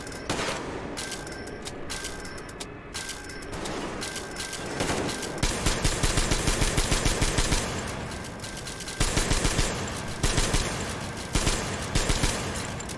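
Machine gun fire in the video game Metro Exodus: loud, rapid automatic bursts of gunshots, several long sustained volleys separated by short pauses, heard up close.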